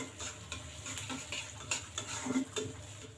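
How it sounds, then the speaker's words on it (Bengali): Chopped onion and garlic frying in soybean oil in a wok, a faint close sizzle broken by light ticking and scraping taps as the pan is stirred. "পেঁয়াজ আর রসুন কুচি পুরোপুরি লাল করে ভেজে নিতে হবে"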